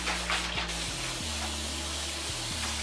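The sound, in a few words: spray bottle spritzing water onto hair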